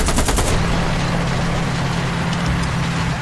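Gunfire in the tank game War Thunder: a loud, fast burst of machine-gun shots at the start gives way to a steady engine drone, with a few faint later shots under the rumble.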